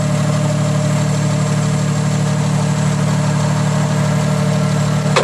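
A one-owner Nissan 8k pneumatic tire forklift engine idles close by with a loud, steady, low drone and constant vibration. Nothing else is heard.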